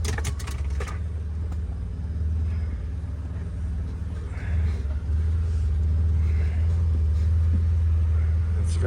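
A Can-Am Defender side-by-side on oversized tires rumbles low and steady as it climbs over a dirt berm of dug-out backfill, the engine note swelling slightly partway through, with faint murmuring voices in the background.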